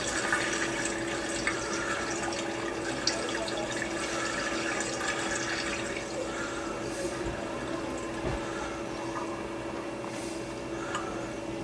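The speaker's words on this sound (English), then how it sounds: "Then let the rest of the water drain." Water draining out of a machine's water tank, a steady close rush and trickle of running water with faint splashes, continuous for the whole stretch with no talking.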